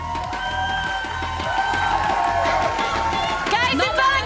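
A crowd in an esports arena at a VCT EMEA match cheers and shouts, swelling louder toward the end, with a voice speaking over the noise.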